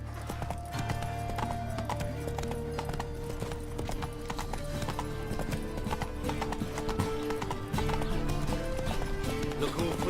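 Hooves of Geralt's horse Roach clip-clop steadily in The Witcher 3, trotting rhythmically beneath a continuous bed of game music with occasional tonal swells, the footfalls clear and close throughout.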